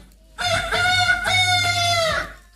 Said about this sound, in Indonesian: suara ayam jantan berkokok kenceng banget